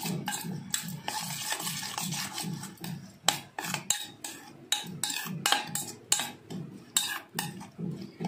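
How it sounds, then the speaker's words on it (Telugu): Ugadi pachadi being stirred and mixed by hand in a bowl, with a steady run of rasping, scraping spoon strokes at a regular rhythm, close up, with no voices. "ఇప్పుడు ఇది మొత్తం కలుపుకోవాలి బాగా."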